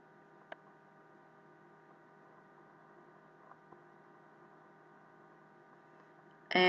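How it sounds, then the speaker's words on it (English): A ceiling fan running indoors gives a steady, faint low hum throughout, with a couple of tiny clicks and a louder burst of noise right at the end. "if you can hear like a little noise in the background, it's just my ceiling fan on."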